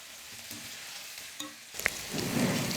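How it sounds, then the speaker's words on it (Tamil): Brinjal sautéing in oil in a pan over a medium flame, with a steady soft sizzle, a couple of brief utensil taps, and a louder, fuller frying hiss building toward the end. "எண்ணெயிலே கத்திரிக்காவை வதக்கும் பொழுது நல்லா வெந்து வந்துடும்"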